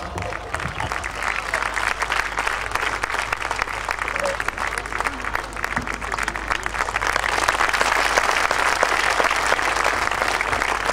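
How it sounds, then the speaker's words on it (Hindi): An audience applauds loudly and steadily at a Hindi kavi sammelan poetry gathering in Seawoods, a dense wash of clapping that swells slightly toward the end, with some crowd murmur beneath. "जो तालियों से आपका सम्मान कर रहे हैं"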